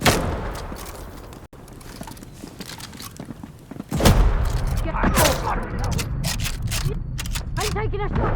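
Gunfire in the video game Atomfall: bursts of shots and heavy booms from about four seconds on, loud and close, with people shouting during the firefight.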